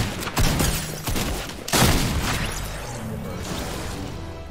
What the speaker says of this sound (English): A lever action shotgun.